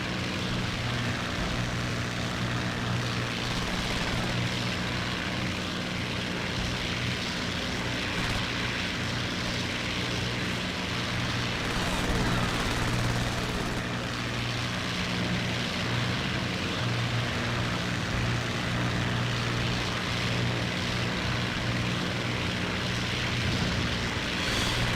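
Bomber aircraft engines in the Zonk mod of a flight combat game drone steadily, a dense continuous propeller roar at constant loudness for the whole stretch.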